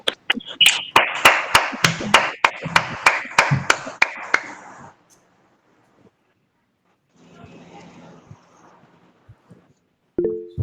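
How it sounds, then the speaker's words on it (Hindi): A church congregation claps loudly together, a burst of sharp, close hand claps for about five seconds before it fades out, followed by a quiet stretch with faint scattered noise and a brief sound at the end. "आइए एक ऊंचे ताली लगाते हैं और परमेश्वर को धन्यवाद देते हैं"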